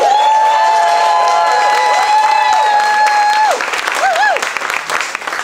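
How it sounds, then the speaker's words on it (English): Crowd applause at a farewell event for a sound system aboard the Jamrock Cruise, a loud sustained wash of clapping with cheering, with a sung or held tonal line riding over it. "Give them a round of applause again."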